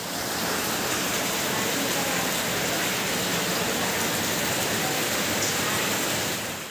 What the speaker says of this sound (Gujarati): ઘરમાં વરસાદી પાણી ધસી આવવાનો વિડીયો વાયરલ થઈ રહ્યો છે